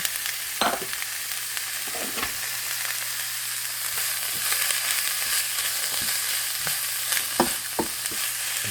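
Onions and cabbage sautéing in a pan beside quinoa, a loud continuous sizzle up close with occasional scrapes and taps of a utensil, no talk.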